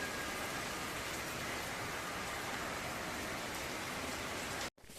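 Steady, dense rainfall hisses evenly throughout, close and moderately loud, cutting out abruptly for a moment near the end.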